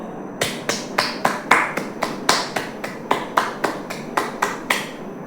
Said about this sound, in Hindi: ये ताली की आवाज़ सुन के आपको कुछ अजीब नहीं लगा?